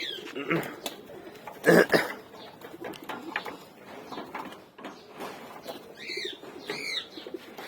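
Pigeons in a loft: soft, close cooing calls repeat under background noise, with rustling and a brief clatter in between.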